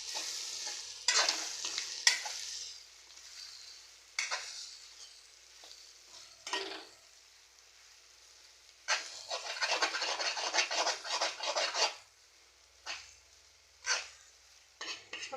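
A spoon scrapes and stirs through sizzling prawn pepper fry after coriander powder goes into the hot pan, in loud, scratchy bursts separated by quieter frying hiss, with no voices.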